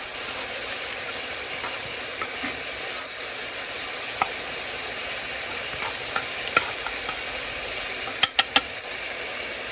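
Onion and potatoes sauté in a pan with a loud, steady sizzling hiss throughout. Faint stirring ticks are scattered through it, and a quick cluster of sharp clicks comes near the end.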